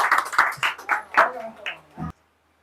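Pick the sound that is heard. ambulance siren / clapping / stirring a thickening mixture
clapping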